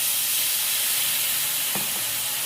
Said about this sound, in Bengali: এবার 1 কাপ জল দিয়ে দেবো এর মধ্যে